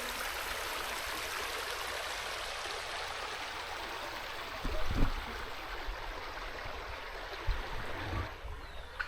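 A steady, close stream rushes and gurgles beside a homestead in Luang Namtha, northern Laos, with a few low knocks or splashes breaking through near the middle and end.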